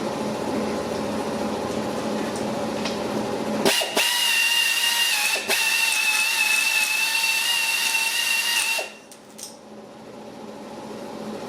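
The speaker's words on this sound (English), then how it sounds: "I'm just going to hone this out, just clean it up." A power tool hones out and deburrs a part on a Hitachi excavator during an overhaul, whining steadily at high pitch with a couple of brief bumps, then cutting off near the end and leaving quieter background noise.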